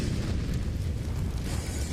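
A bomb detonating in Counter-Strike on the map Nuke, a dense and sustained low rumbling boom that fills the whole short moment at steady loudness.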